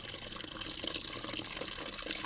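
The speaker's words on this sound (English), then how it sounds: "I'm going to get the demijohn ready in a jug and fill the demijohn up." Homemade cider pours into a glass demijohn with a continuous, quiet splashing and gurgling of liquid filling the vessel.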